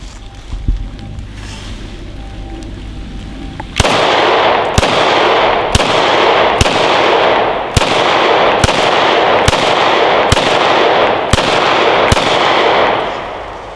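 Ten pistol shots from an FN 5.7 fired outdoors at body armor, loud sharp cracks spaced about a second apart in a steady rhythm over a constant background roar.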